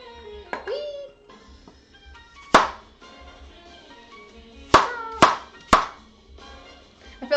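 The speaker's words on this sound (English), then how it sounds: "We're almost done chopping up the apples." Someone chops apples with a knife on a cutting board to make apple sauce. Several sharp, close chops come in an uneven rhythm, with quiet gaps between them, and there is no talk.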